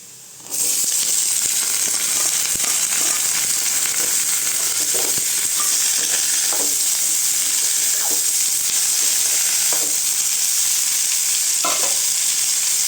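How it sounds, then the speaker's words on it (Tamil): Chow chow (chayote) stir-fried in a pan with sautéed onions, a loud, continuous close sizzle with repeated scraping and stirring strokes of a spatula, and no voices. "வெங்காயம் நல்லா வதங்கிடுச்சுங்க இப்போ காய் சேர்த்துக்கலாம்"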